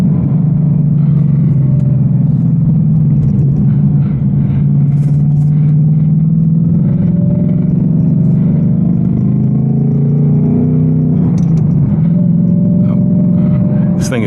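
An 810-horsepower RTR Mustang GT's engine rumbles loudly through a drive, revs rising and falling with blips and crackles on downshifts, while someone talks over it.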